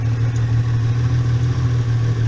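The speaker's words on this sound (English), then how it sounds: "Sounds like quite a nice gentle idle, not too crazy." A Subaru H6 3.0 engine swapped into a VW T3 Caravelle idles gently and steadily, a close, even low hum with no revving, running hot with its coolant warning on.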